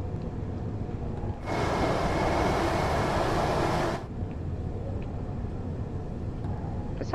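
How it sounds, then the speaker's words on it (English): A steady train running sound in Train Sim World 3 on the London Victoria to London Bridge commuter line, a continuous rumbling rush with a brighter hissing layer that swells in for a few seconds and then cuts away. "It's a southern train."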